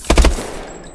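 A short, loud burst of rapid gunfire from Call of Duty: Advanced Warfare, about three close shots that trail off into a fading echo.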